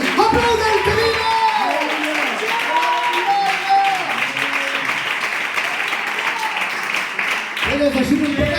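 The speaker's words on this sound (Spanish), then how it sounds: "Aplaude, aplaude, aplaude, aplaude el que vive." Church congregation applauding during a Spanish-language sermon, a steady wash of clapping that runs the whole time under loud sung or shouted voices and music-like tones.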